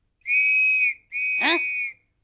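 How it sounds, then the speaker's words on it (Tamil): Two loud, shrill blasts of a whistle blown to chase people away, each held for most of a second with a short gap between, the second blast with a warbling trill in the middle. "விசில் அடிச்சு விரட்ட வேண்டியதான்."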